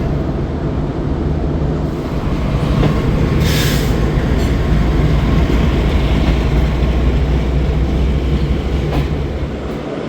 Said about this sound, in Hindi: टाउन ZB के ट्रेन यानी कि गुड्स ट्रेन रवानगी के लिए तैयार है।